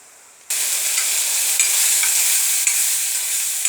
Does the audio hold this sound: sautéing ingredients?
yes